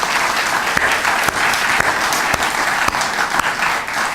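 Sustained, dense applause from a large audience at a women's health mobile unit launch, loud and steady throughout, with a few sharper claps standing out.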